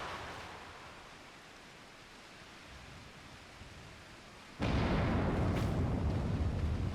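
A sudden loud explosion in Final Fantasy XIV erupts midway after quiet ambient rumble, a broad roaring blast that sustains at full volume to the end.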